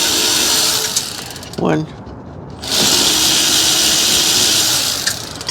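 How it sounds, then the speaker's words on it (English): An electric ratchet spins off 10 mm bolts on a car's brake assembly during a wheel cylinder replacement, giving loud buzzing whirs before and after a brief pause, with a short spoken word in between. "Electric ratchet."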